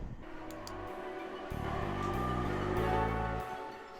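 Old Odoriko express train near Atami, Japan, rumbling steadily with low, pulsing wheel and motor drone that swells midway, a continuous mechanical hum without voices.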